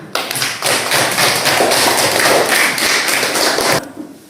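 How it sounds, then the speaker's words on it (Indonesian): A roomful of students at a school lesson claps, a loud burst of overlapping hand claps that starts sharply, holds steady for several seconds, then stops abruptly. "Tepuk tangan"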